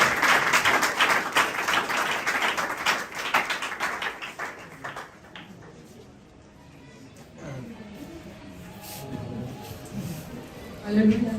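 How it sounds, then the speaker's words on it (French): A church congregation applauds at a Sunday testimony service, dense rapid clapping that gradually thins and fades out, followed by quieter room sounds and a few scattered claps. "On acclame puissamment pour le Seigneur"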